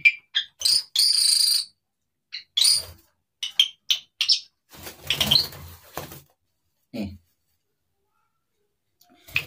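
An Asian pied starling (jalak suren) gives sharp, close chirps and whistling calls in short, irregular bursts separated by silent gaps.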